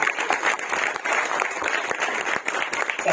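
Sustained audience applause fills a hall at a Hindi literary theatre event, dense and steady with sharp individual claps scattered throughout, no voices on top.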